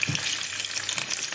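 Garlic and ginger paste spitting and sizzling in hot oil in a pan, a loud, steady close crackle and hiss for over a second with no talking.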